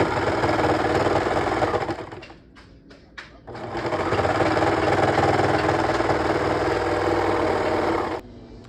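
A sewing machine stitches the curved seam of a pinafore made by the burrito method, running loud and steady, pausing briefly partway through, then resuming before stopping near the end.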